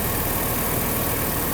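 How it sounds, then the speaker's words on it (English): Mercedes car engine idles with a steady, dense broadband hum and rumble, close and fairly loud, unchanging throughout without any voices. "We got the engine running."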